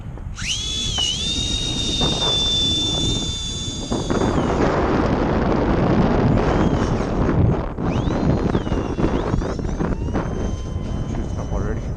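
Small E-flite UMX Citation Longitude twin 30mm electric ducted-fan RC jet whining steadily on a windy day outdoors, its high thin fan tone rising and falling over constant wind buffeting the microphone.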